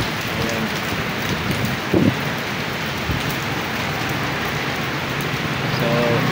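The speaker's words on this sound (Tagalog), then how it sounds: "Medyo malakas-lakas na yung ano dito, hangin at saka ulan." Heavy typhoon rain pours down in a steady, dense hiss, with a couple of brief knocks and no voices.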